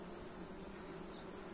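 Honey bees hum steadily inside an opened hive in late autumn, a faint, continuous close-up buzz with no pauses and no voices.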